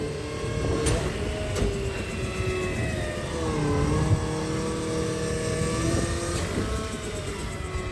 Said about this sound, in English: Oh, Marcos' truck is leaving.